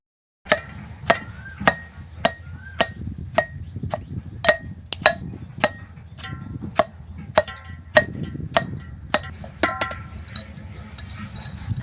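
Pieces of arrowroot being pounded and crushed in a village kitchen, a steady series of sharp, hard knocks about once a second, close and fairly loud with a faint rumble between strikes.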